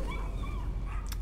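A dog in the horror video game Layers of Fear whimpers and whines in short, high, wavering cries, with a brief bark-like burst near the end, fairly close and alone without talk.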